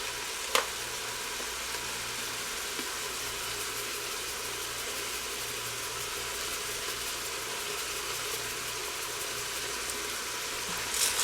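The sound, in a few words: vegetables sizzling as they saute in a pan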